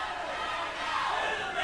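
A loud crowd roars and cheers throughout at a wrestling event in Freddy's Auction House, a packed sportatorium; the noise is a dense, steady wash of many voices.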